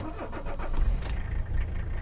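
The diesel engine of a long-abandoned Mercedes 300CD cranks and catches, a low rumbling churn that swells into a rough running idle, heard close up.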